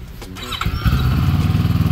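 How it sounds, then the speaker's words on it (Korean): A CFMOTO CLX700 sport motorcycle engine cranks briefly, catches and starts, then settles into a steady, loud, close idle with a rhythmic low pulse. "자, 첫 시동이 터졌고요."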